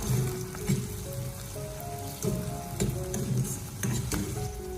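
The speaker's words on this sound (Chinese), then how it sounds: "锅里面添加少许的油，接着再把洋葱还有小葱放进去炸一下" Onions and scallions fry slowly in a little oil over low heat, giving a steady close sizzle with soft stirring knocks throughout and no talking.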